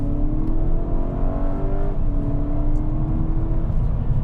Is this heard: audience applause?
no